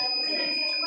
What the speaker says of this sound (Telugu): బజర్ మోగుతుంది, అంటే మీరు ఆగండి అని వార్నింగ్ ఇస్తుంది సార్